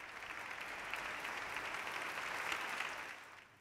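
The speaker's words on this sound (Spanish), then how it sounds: "una cerrada ovación de los presentes que se han levantado de sus sillas para aplaudir al futuro rey de España" A standing audience gives a sustained ovation to the Prince of Asturias, the future king of Spain, in a dense, even wash of clapping that fades at the end.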